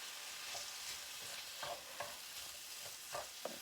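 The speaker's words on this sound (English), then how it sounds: "I've added more olive oil, and I'm going to put the rice in" Rice being stirred into a pan of cooked-down mushrooms and olive oil, a soft, quiet sizzle with a few spoon scrapes and stirring knocks, no voices.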